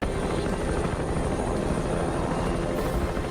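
Helicopter rotor and engine noise from the submarine film The Hunt for Red October, a steady, dense, continuous drone with a fast rotor chop, heard close and alone without any talk.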